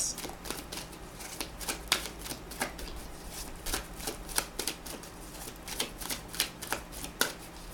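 Tarot cards being shuffled by hand, a steady run of soft riffling flicks and papery slaps repeating close up, quiet and continuous, with no talk over them.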